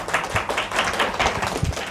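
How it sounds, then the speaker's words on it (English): A short burst of audience clapping greets a presenter at a wellness industry session, the claps sounding fairly close and uneven, with no speech. "Please give a round of applause."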